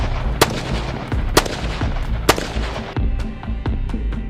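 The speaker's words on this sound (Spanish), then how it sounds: "comenzó a hacer disparos desde allí" Three sharp gunshots ring out at regular intervals, loud and crisp, followed by fainter distant cracks.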